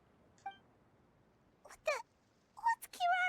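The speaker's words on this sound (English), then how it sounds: "It's the cat." The Genshin Impact cat character Kirara, on a train, gives a few short meows and mewing chirps, separated by quiet gaps.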